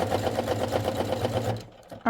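A sewing machine stitches ric rac trim onto quilt binding, a steady close whirring run of about a second and a half that stops abruptly, followed by a brief voice.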